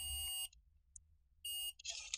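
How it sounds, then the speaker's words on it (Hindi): Digital multimeter continuity tester beeping as its two probes touch, two sharp, piercing beeps separated by a short silence, close and clear with no talking, heard while checking a tubelight choke repair. "मल्टीमीटर में हम दोनों प्रोब्स को आपस में टच करते हैं तो इसमें बीप की साउंड सुनाई देती है"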